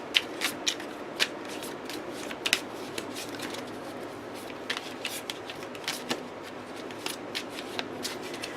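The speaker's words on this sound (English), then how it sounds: "I have to shuffle the deck." A deck of cards is shuffled by hand at close range, a quiet riffling texture dotted with sharp irregular snaps and flicks.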